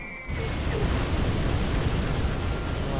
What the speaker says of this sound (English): Another carpet bomb.